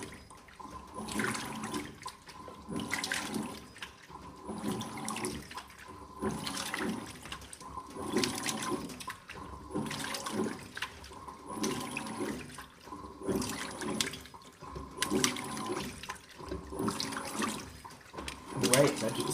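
A Simpson 8.5kg washing machine, nearly full of clothes, agitates with rhythmic sloshing and churning surges of water that repeat every second or so, steady and moderately close for about twenty seconds.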